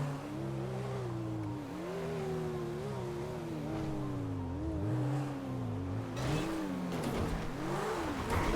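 A car engine in GTA 5 revs and drives continuously, its pitch rising and falling through repeated gear surges, loud and steady throughout with no voices.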